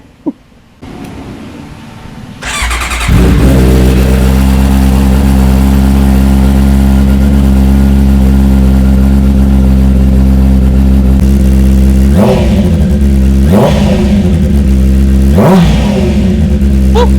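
A Honda CBR650R sport motorcycle engine starts up close by, settles into a loud steady idle, then is revved sharply three times in quick bursts.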